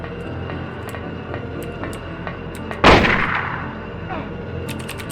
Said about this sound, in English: Now we're just gonna plug her with the rifle till she dies.